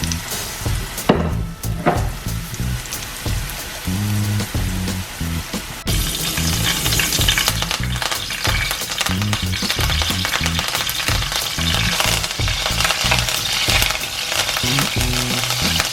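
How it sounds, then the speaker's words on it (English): Plantain slices fry in hot oil for an Ackee and saltfish meal with fried breadfruit, a steady close crackle and sizzle running throughout, with low thumps and stirring knocks early on and a louder, denser fry after the first few seconds. "we want to get them fried up nice and brown"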